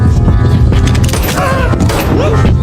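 Two gunshots fired during a tense armed confrontation, heavy booming reports amid a loud, dense action-scene mix with low rumble throughout.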